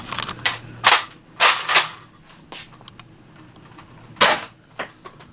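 Spring-powered AF Nexus Pro airsoft gun with a 3DPS spring mod firing several sharp, close cracking shots at irregular intervals, with quieter clicks and handling noise between them.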